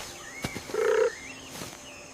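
In a Sri Lankan Jataka folk tale, a frog gives a short croaking call, heard as one drawn-out throaty note with a couple of faint clicks around it, moderately close.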